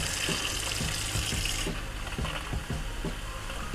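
Water runs steadily from an outdoor spigot on a Wildwood FSX 170SS travel trailer during de-winterization, a broad hissing splash that drops in intensity partway through, with faint knocks underneath.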